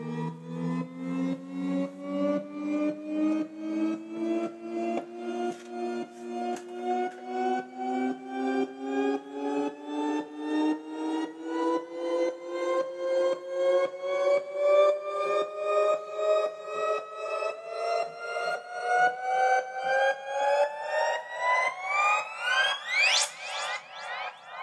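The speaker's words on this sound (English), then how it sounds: "the effect you're hearing there is just the stereo delay in Ableton Live" A pulsing synth tone through a stereo delay in Ableton Live rises steadily in pitch over about twenty-five seconds, its repeating echoes throbbing evenly until it sweeps sharply upward at the end.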